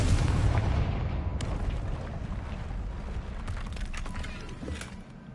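A Confringo blasting spell explodes in the video game Hogwarts Legacy, amid troll-wrecked debris: a loud, broad rumbling blast that fills the opening moment, then a long crackling, churning decay with a few sharp cracks and no talk.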